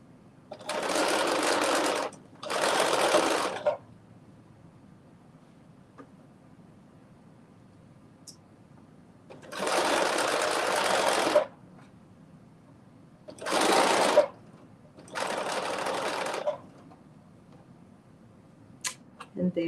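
A sewing machine stitches a quick back stitch on a McCall's 8142 garment, running in five short bursts of a few seconds each separated by quiet pauses, close and fairly loud.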